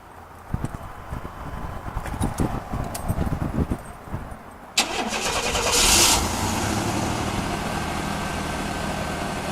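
A vehicle engine cranks and fires up, with scattered clunks and handling noises first, then a sudden catch into a steady, loud idle that holds to the end.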